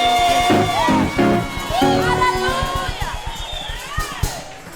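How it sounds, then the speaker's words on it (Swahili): In a church, a congregation claps rhythmically and cheers in praise of Jesus, with whoops and ululation, while a preacher's amplified voice rises above the crowd. "Mpigie Bwana Yesu makofi na uongeze shangwe."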